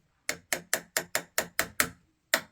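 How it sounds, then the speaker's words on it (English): Eight sharp, evenly spaced hammer taps in quick succession lightly driving a new blade into a refitted spokeshave sole, then a short pause and one final tap, close and crisp. "Gonna have to bang it in sometimes with a hammer."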